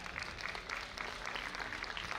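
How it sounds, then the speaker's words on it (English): Audience applause at a commerce conference hall: a faint, distant, continuous patter of many hands clapping, steady throughout the short stretch with no clear voices. "we'll have a clap for this particular section one"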